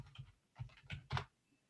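A few soft, quiet keystrokes come from a computer keyboard while typing in OneNote, spaced irregularly and close by, with no talking.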